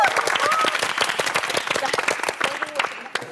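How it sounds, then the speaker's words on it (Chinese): A studio audience at a televised workplace competition show applauds with dense, rapid clapping that gradually thins, while voices talk over it. "掌声"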